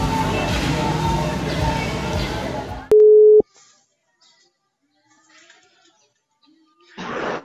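A telephone tone sounds as a single loud, steady beep lasting about half a second while a call to a friend is being placed. Near-silence follows, then a brief burst of noise.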